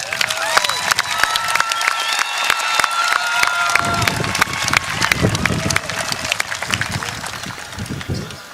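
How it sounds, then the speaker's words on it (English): Graduates and families at a 2014 spring university commencement ceremony applaud and cheer, a broad crowd roar with scattered whoops, steady for several seconds before easing slightly toward the end. "Give yourself a big round of applause."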